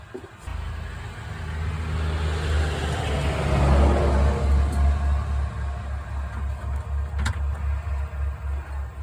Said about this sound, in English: God darn, these trucks are loud.